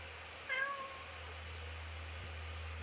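A cat lets out one brief, fairly faint meow near the start, over a constant low hum and background hiss in a quiet room, with no talking.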